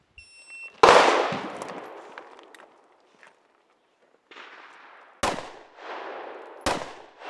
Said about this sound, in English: Now we're gonna start to add on more and more shots.